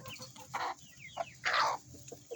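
Backyard chickens cluck softly while pecking at tuna and cucumber treats, with short rising calls and a louder squawk, quiet and close.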